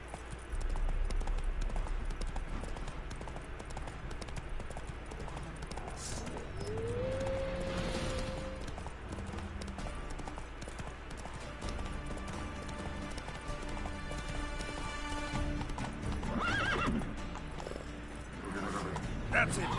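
Roach, a horse in the video game The Witcher, gallops with steady clip-clop hoofbeats under game music and ambience, with a voice talking over it.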